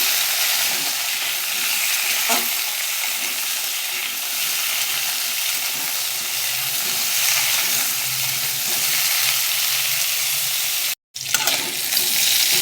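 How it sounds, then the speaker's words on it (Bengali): Potato, eggplant and carrot fry in hot oil with a steady, close sizzle and spatter running throughout, a few sharper stir clicks, and one brief cut near the end. "আলু, বেগুন আর গাজর এগুলোকে ভেজে নেব একটু।"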